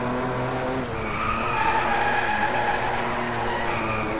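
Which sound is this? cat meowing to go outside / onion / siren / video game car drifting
video game car drifting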